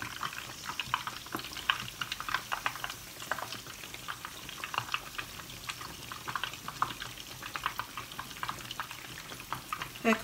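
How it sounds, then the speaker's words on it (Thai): Spicy battered chicken deep-fries in oil over medium heat, giving a steady, dense crackle and sizzle with frequent small pops, close up and without any talking. "ค่อยๆใจเย็นๆทอดไปเรื่อยๆจ้ะนะจะใจร้อน ไก่ชุบแป้งทอดแบบนี้แป้งจะไม่กรอบมากนะ"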